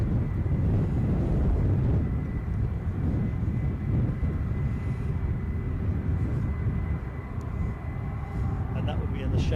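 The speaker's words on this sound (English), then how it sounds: "that would be in the shape of Ryanair coming from Belfast. 737-800 departed 25 minutes ago" A Ryanair Boeing 737-800 from Belfast comes in to land at a gusty Edinburgh airport, its engines a low, continuous rumble mixed with wind buffeting the microphone, while someone talks over it.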